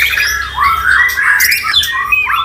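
White-rumped shama (murai batu) calling at a Jakarta bird market: a busy run of bright, warbling and squawking phrases that continues without pause over faint low market rumble, fairly close and fairly loud.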